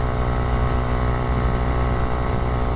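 Honda Ruckus scooter with a swapped 171cc engine cruising, its motor giving a steady, loud, close buzzing drone with constant pitch and no talk.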